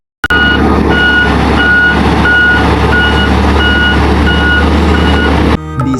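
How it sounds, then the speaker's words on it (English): A dump truck sounds steady, evenly spaced reversing beeps over a loud, constant engine rumble, close by and continuous, with no talking, then cuts off abruptly near the end. "This is a dump truck."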